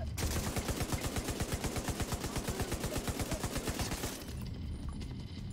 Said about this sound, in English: Yeah, this gun's a heavy machine gun.